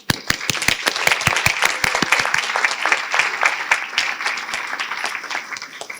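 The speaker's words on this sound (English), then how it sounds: "Let's give a round of applause for our committee." Guests at a Colleen coronation ball applaud the committee: a few sharp, close hand claps open into dense, sustained crowd applause that gradually fades toward the end.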